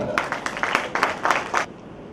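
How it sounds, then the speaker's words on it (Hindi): An audience at a mushaira and kavi sammelan poetry gathering in Udaipur claps for about a second and a half, a close, uneven burst of applause that cuts off abruptly and leaves quiet room tone. "मैं भरपूर तालियों से इस्तकबाल कीजिए PL बामिया साहब का।"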